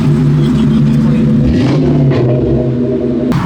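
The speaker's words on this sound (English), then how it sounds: "We got the Termi rolling on up with the lights that are blinding me." A Terminator car rolls up at an underground car meet, its engine a loud, close, steady rumble with a brief rise in revs.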